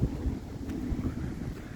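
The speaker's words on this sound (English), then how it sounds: "It's a little windy" Steady outdoor wind gusting near trees, a constant low rumble of buffeting that holds at an even level throughout with no talk.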